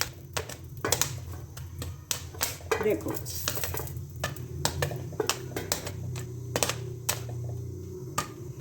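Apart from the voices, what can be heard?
popcorn popping in a pot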